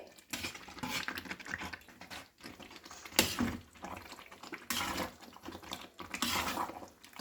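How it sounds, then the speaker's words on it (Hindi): Vegetables dropped into cooked masala in a pot for veg diwani handi, with clattering spoon-on-pot knocks and scraping in several bursts, moderately close with no talk. "अब इसमें हम वेजिटेबल्स को डाल देंगे।"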